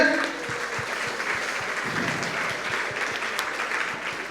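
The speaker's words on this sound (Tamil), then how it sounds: "சூப்பர் ஒரு மிகப்பெரிய ஒரு கைத்தட்டல்" A big round of applause from a group of students in a classroom, steady mid-level clapping that runs throughout, with low thumps and a few voices underneath.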